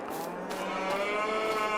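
Cattle in the Farming Simulator 22 game moo in a single long, drawn-out call, clear and fairly close, with no voices over it.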